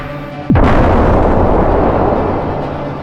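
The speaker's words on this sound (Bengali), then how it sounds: "বিস্ফোরণের শব্দে আবারও করিডোর কেঁপে উঠল" A small hand grenade detonates in a building corridor with one sudden, heavy boom after a brief whoosh, followed by a long rumbling roar and crackling debris that slowly fades.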